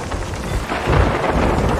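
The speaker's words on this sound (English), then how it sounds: "this fucking storm makes everything so much more fucking difficult" A thunderstorm rages in a video game, with heavy rain hissing steadily and a deep thunder rumble swelling through the middle, loud and close, with no voices.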